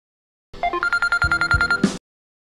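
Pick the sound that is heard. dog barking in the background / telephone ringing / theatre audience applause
telephone ringing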